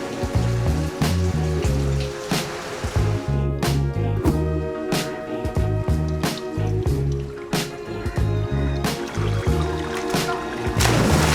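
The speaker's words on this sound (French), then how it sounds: "20 minutes après avoir fini de manger, la pluie" Rain falls in Sri Lanka, heavy drops dripping and pattering onto a nearby surface in an uneven, steady rhythm, close and fairly loud, with no one talking.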